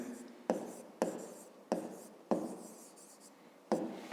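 A pen writes a word by hand on paper, heard as close, scratchy strokes with a sharp tap at the start of each, about six in a row, alone without speech.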